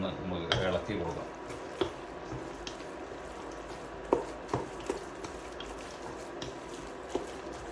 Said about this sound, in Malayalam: നന്നായിട്ട് ഇതൊന്ന് നമുക്ക് ഇളക്കി കൊടുക്കാം